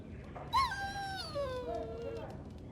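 A dog whines in the fantasy video game Dragon Age: Origins, a long falling whimper with a rising yelp at the start, heard close under a faint background murmur.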